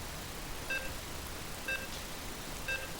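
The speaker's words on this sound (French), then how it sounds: "on réentend le bip bip bip" Short electronic beeps repeat in the lobby of the StarCraft II game, three identical tones about one second apart over a faint steady background hiss.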